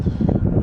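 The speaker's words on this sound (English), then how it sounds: "It's really windy though" Gusty wind buffets the microphone outdoors during drone flying, low rumbling blasts, loud and close, with no other sounds standing out.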